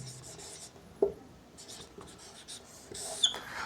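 Marker or chalk strokes on a lecture board as a step number is written, giving faint scratchy rubbing with a sharp tap at the start and a few short strokes, close by and quiet.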